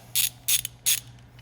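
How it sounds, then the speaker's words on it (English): An Allen head socket on a ratchet loosening a plug on an Eaton Carter 64200 ground fueling nozzle, three quick ratcheting clicks in a row, close and crisp, with no talking. "As I'm removing the plug, I'm using an Allen head socket to remove it."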